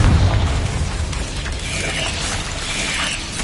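Explosive Confringo blasting spell in Hogwarts Legacy, a loud booming burst up front that fades into a rumbling, rattling mechanical tail with faint ringing tones.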